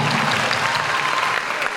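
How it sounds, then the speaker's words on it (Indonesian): A church congregation at a youth jamboree claps in a dense, steady burst of applause that fills the room for the full stretch. "Boleh tepuk tangan yang baik dan yang besar bagi Tuhan."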